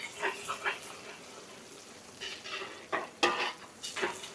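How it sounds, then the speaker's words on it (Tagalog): Garlic and onion are sautéed for kariikari at a catering kitchen, with quiet sizzling and a few stirring scrapes against the pan, close by and faint, with no talk. "kari-kari na tayo, bawang sibuyas, gigisa na natin."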